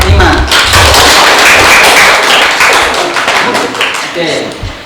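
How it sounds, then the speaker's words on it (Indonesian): A classroom group gives dense, loud clapping for a presenting student group that softens toward the end, with voices mixed in. "Tepuk tangan untuk kelompok 5."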